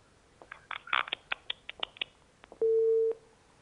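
A telephone call drops during a call-in broadcast. A few quiet clicks are followed by a single steady electronic busy-tone beep lasting about half a second.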